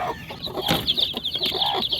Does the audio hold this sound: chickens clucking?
yes